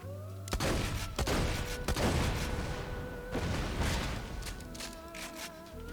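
Rapid gunfire and explosive booms from a sword explosion gun in the video game Borderlands, loud, dense bursts of shots repeating across the whole stretch with no talk.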